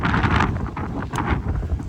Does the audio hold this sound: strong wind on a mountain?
yes